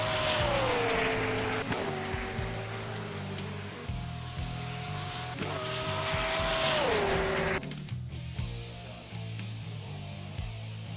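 Hypercar engines race around the Imola circuit in a sim racing game, a loud continuous high-revving whine rising and falling through gear shifts, with lower engine rumble and tire noise underneath.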